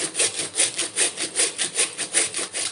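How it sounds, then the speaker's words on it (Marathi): Cucumber rubbed against a fine kitchen grater in quick, even back-and-forth strokes, about nine close, rasping scrapes in a steady rhythm with no talking. "मी बारीक किसणी घेतली आहे. याने छान प्रकारे काकडी किसली जाते."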